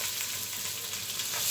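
Rice fries in a pot as it is stirred, a soft hissing sizzle with faint scraping, quiet and close, swelling slightly at the end with no talk.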